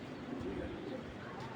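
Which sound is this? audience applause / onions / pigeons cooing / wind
pigeons cooing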